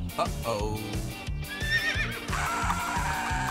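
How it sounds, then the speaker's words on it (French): A horse whinnies loudly with rising, wavering neighs, over a steady rhythmic beat of music and hoof-like clopping. "Au secours! Un cheval me poursuit."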